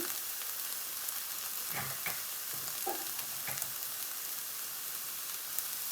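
Tomatoes with ginger-garlic sautéing in a pan for pav bhaji, giving a low, steady background sizzle with a few soft stirring scrapes and clinks near the start.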